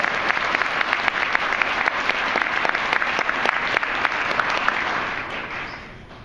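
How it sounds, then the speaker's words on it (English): A full audience breaks into sustained, close applause, dense and even throughout before tapering off at the very end; no one speaks. "give yourselves a round of applause."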